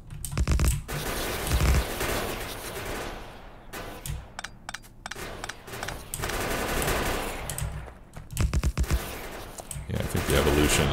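Rapid bursts of automatic turret fire against spiders in Factorio, loud and dense with near-continuous volleys and short pauses throughout.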